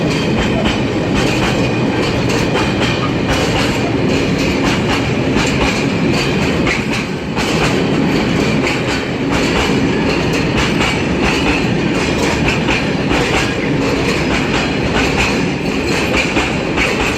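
Loud, close train on the North Kent line at Lewisham, rumbling past for a long stretch with steady clickety-clack of wheels over rail joints and faint squeal, filling the whole span without pause.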